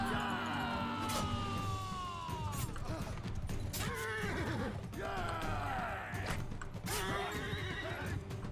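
Horses whinny and neigh repeatedly amid clip-clopping hooves and battle noise in the medieval combat game Mount & Blade 2: Bannerlord, with several loud, descending neighs standing out over a constant busy background.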